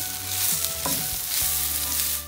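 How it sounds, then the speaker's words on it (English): Vegetarian fajita fillings are stirred around a hot frying pan, a loud, continuous sizzle broken by scraping strokes of the spoon, close up with no talking. "we'll just stir those around the pan for another minute or so"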